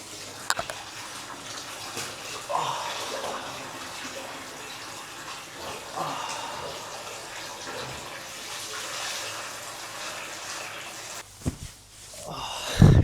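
Water sloshing and splashing in an overwater villa pool in the Maldives, a continuous gushing wash with intermittent louder splashes and a sharper burst of movement near the end.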